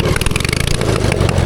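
A push lawn mower fitted with a 450cc twin-cylinder engine revs hard and close, a loud, rough, pulsing roar running steadily throughout.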